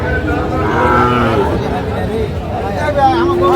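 Cattle low loudly at a cattle market, a long drawn-out moo rising over a busy crowd murmuring in the background.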